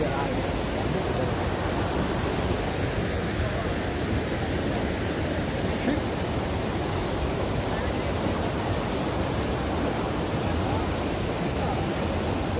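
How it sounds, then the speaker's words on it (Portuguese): Rushing water from the Cachoeira do Meirelles waterfall near Santa Rita de Jacutinga, Minas Gerais, forms a steady, loud broadband roar that fills the whole scene without pause, with faint voices beneath it. "Cachoeira de Meirelles, Cruzeiro, distrito de Santa Rita de Jacutinga, Minas Gerais."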